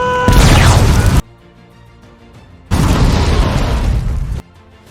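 Two loud, close explosions from suicide bombers in a war film, each a heavy roaring blast lasting about a second before cutting to a low rumble.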